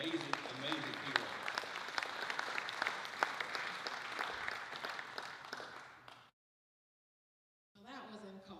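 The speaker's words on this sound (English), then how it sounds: "give me a great round of applause for Pat Dalke" An audience applauds a food pantry volunteer with dense, steady clapping that runs for about six seconds, then cuts to silence before the room noise returns.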